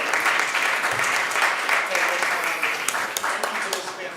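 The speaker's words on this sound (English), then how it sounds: "let's give everybody a round of applause" An audience claps for an industry panel with full, sustained applause at a steady level, a few louder individual claps standing out, with faint voices mixed in and a slight tapering at the close.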